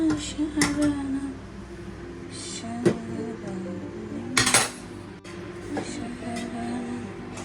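Metal gas stove parts and utensils get washed in a home kitchen: scattered sharp clinks and clatters ring out irregularly, a few louder knocks stand out over a low background hum, and a voice talks briefly.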